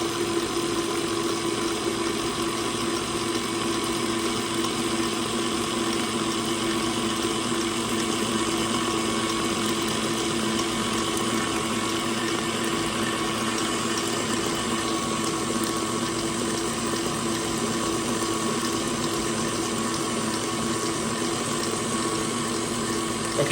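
KitchenAid stand mixer with splash guard whipping cream and maple syrup, a steady loud motor whir with constant mechanical hum running unbroken throughout.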